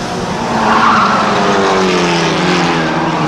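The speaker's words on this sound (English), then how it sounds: "the 95 of Clay Joseph is now running 5th" Stock mini race cars roar past on a track, their engines loud and sustained with shifting pitch as the pack runs by close to the microphone.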